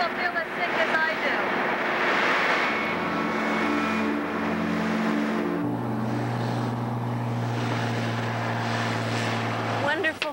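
A seaplane's engine drones steadily in flight, loud and close from inside the cabin, with sustained tonal hum shifting pitch partway through.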